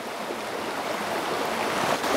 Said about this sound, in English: Now there's some sort of waterfall thing up here.